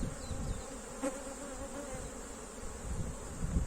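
Honey bees buzz steadily around an opened beehive during a honey check, a dense close drone of many insects with no talking.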